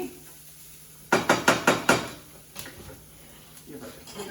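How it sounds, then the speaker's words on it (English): Potatoes are shaken in a skillet, making five quick, loud rattling bursts in a row followed by a few softer shuffles, with a voice speaking faintly afterward. "Give our potatoes a little rattle."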